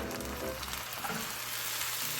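Loud, steady sizzling of onions frying in a hot pan with balsamic vinegar and Worcestershire sauce, continuous and close, with no talking.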